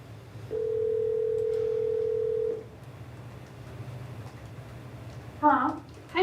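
A telephone dial tone on a speakerphone sounds as a steady single hum for about two seconds, followed by quiet room noise and then a short burst of dialing or ringing tones near the end.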